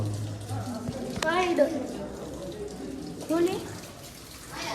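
Water flowing into a pool inside a dark rock cave at Harishchandragad, a continuous splashing trickle like a running tap, with voices talking over it close by.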